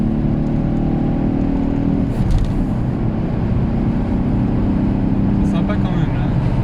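Alfa Romeo 145 engine revving at high rpm from inside the car, a steady loud drone that drops and shifts after about two seconds, with faint talk on board.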